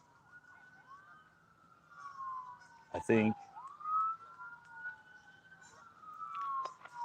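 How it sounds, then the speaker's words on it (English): Emergency vehicle sirens wail in rising and falling sweeps at a distance as they pass by, continuing through the whole stretch, with a brief spoken remark and a sharp noise partway. "Sirens."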